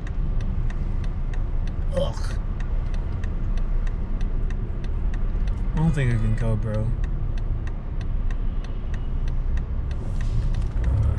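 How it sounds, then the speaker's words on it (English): Steady road traffic rumble from cars and engines in a big city, a constant low drone throughout with a passing vehicle swell midway, while someone talks over it. "Look at all this fucking traffic."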